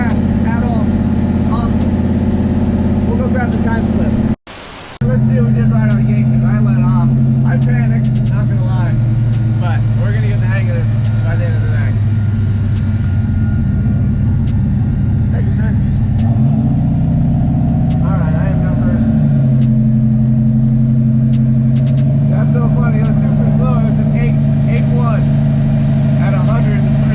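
A race car at the Irwindale drag strip, its engine idling with a loud, steady low rumble and a brief revving swell midway, while people talk over it nearby.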